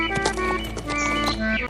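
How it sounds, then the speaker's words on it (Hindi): A horse loaded with sacks of salt walks along, hooves clip-clopping in a light quick rhythm under a steady musical background. "घोड़ा फिर से उसके आगे चलने लगा"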